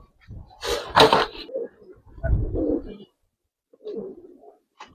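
Gribaz coloring racer pigeons coo in a loft, a few soft low throaty calls in short bursts with pauses between them, close and moderately loud, with faint rustling in the background.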